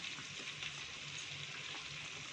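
Ground chili spice paste for chicken rendang sautéing in a pan, a soft, steady sizzle heard close up with faint stirring and no voices.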